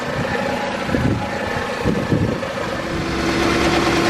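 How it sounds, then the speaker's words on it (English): A car engine idles steadily during a coolant flush, a close, even, low rumble with slight swells in loudness and no talking. "So I left the engine running so the water can mix with the coolant."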